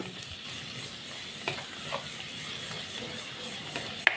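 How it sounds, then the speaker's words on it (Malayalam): A tomato mixture frying in a pan is stirred, giving a soft, steady sizzle with a few sharper scrapes of the spoon against the pan, quiet and close, with no talking. "നല്ലവണ്ണം ഒന്ന് ഇളക്കി ഇതിൻ്റെ പച്ചക്ക ഫ്ലേവറൊക്കെ മാറുന്നത് വരെ ഒന്ന് ഇളക്കി കൊടുക്കണം"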